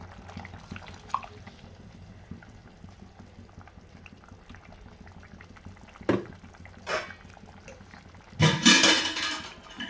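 A pot of onion and potato kurma with coconut paste bubbles steadily at a low simmer, with louder clattering and sizzling bursts toward the end. No one speaks.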